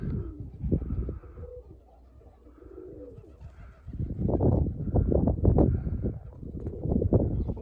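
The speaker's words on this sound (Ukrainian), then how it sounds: "Голуби у нас на самовигулі." Budapest pigeons coo up close in low, throaty rolling phrases, a short burst first, then a longer, louder stretch of overlapping cooing from several birds.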